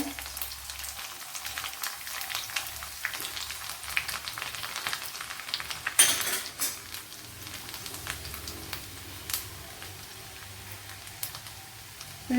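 Garlic cloves fry in coconut oil for a pumpkin tamarind curry, a soft, steady sizzle with scattered crackles and one louder stirring clatter midway, with no talking.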